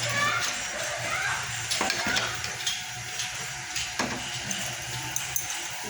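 Steady hiss of cumin seeds sizzling in hot oil in a pan, with a few light clinks of a utensil against the pan.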